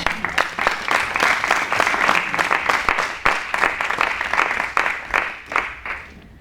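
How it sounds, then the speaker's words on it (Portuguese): An audience at a talk in Brazil claps warmly for several seconds, a dense and fairly close round of applause that slowly thins toward the end. "Helena Teixeira, um aplauso para ela."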